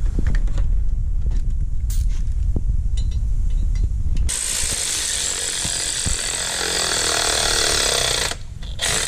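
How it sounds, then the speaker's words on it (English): A ratchet tightening a hybrid turbo on a BMW F30 340i, with a DAW Ultra Flow turbo being installed. Close, loud, busy mechanical clicking and rattling begins around the midpoint after duller handling noise, with no talk. "So right now we're tightening the top, and then once the top is tight, we're gonna tighten the bottom."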